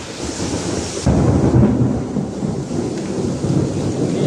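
A sudden rumbling thunderclap booms over steady rain, rolling on and slowly fading into the downpour.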